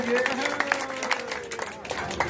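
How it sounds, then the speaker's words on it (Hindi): Crowd applause at an outdoor political rally in a village panchayat, brisk clapping with people talking and calling out over it. "जोरदार तालियों के साथ इनका स्वागत कीजिए।"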